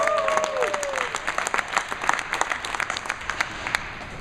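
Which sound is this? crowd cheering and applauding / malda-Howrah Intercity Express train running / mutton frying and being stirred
crowd cheering and applauding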